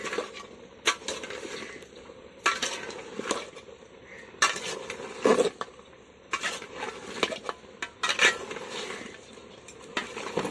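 Mutton and potato masala is stirred in a pan, and a utensil scrapes and clinks against the metal in irregular strokes. Steady, close kitchen sounds with no talking.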